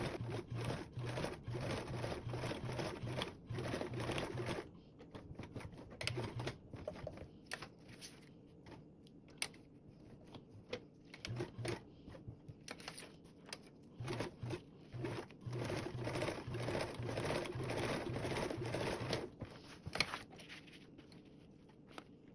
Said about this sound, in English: Then sew a line up and back down.